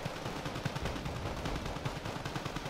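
Sustained MG3 machine-gun fire from Panther Grenadier infantry in the Wargame Red Dragon strategy game, a dense unbroken rattle of rapid shots with a heavy low thump, steady and loud throughout.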